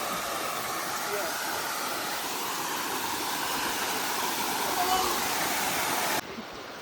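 Rajagiri waterfall in Odisha roars as a steady, dense wash of falling water, close and loud, holding level for several seconds before abruptly dropping to a thinner hiss at the end.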